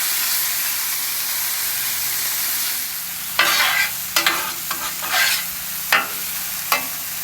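Mushrooms cooking in sauce on a griddle for a blue cheese mushroom burger, giving a steady close sizzle and hiss, with several sharper bursts of spatter and scraping in the second half.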